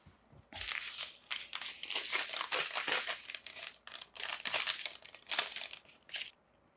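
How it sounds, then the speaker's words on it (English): Paper towels are torn and crumpled by hand at close range, giving continuous loud crinkling and rustling bursts for several seconds with short pauses and no speech. "I'm gonna go with paper towels."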